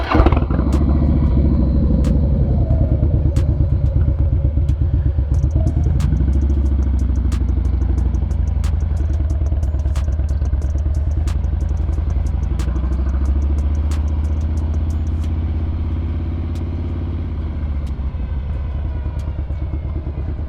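Motorcycle being ridden on the road, its steady mid-pitched engine drone and rumble running continuously with light clatter and a gear change partway, loud and close throughout.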